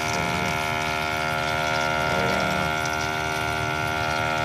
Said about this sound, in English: It's just like a sprinkler going 30 feet.